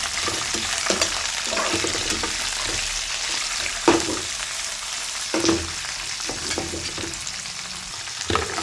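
Capsicum pieces sautéing in a pan for lemon rice, a continuous close sizzle broken by occasional spatula scrapes and taps, with no one speaking.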